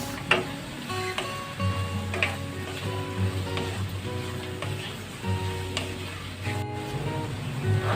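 Carrots hitting a hot pan of frying bihon noodles, a constant close sizzle with ticking and clattering from stirring layered on top, continuous and fairly loud, with no talking.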